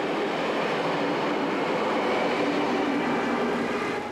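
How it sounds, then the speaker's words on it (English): A class RBDe 4/4 electric multiple unit pulls out of Montreux on an eastbound Rhone Valley stopping service, giving a continuous, fairly loud rolling hiss and rumble with no voices. "One of the omnipresent class RBDE 44 EMUs, known officially as new shuttle trains and unofficially as hummingbirds, leaves Montreux with an eastbound Rhone Valley stopping service"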